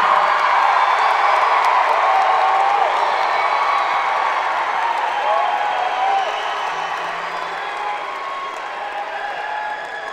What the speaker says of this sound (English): How about another big round of applause for all of our graduating seniors?